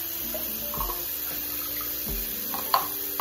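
Tap water running steadily into a sink while dentures are rinsed, a constant close splashing stream with a few small knocks and clatters, no voices.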